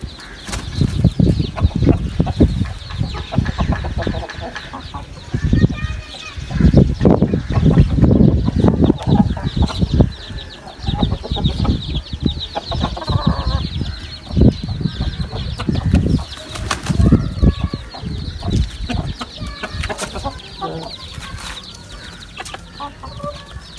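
Chickens cluck and squawk close by, with bursts of wing flapping and scuffling, in irregular clusters over a steady background.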